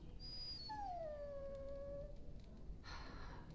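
A dog in Dragon Age: Origins gives a single drawn-out whimpering whine that slides downward, close and clear over a steady low game ambience, with no talking.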